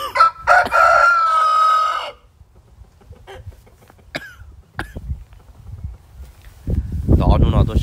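A rooster crows once, loud and near, in a long, wavering call at the start. Scattered coughs and throat clearing follow, then a burst of noisy rustling near the end.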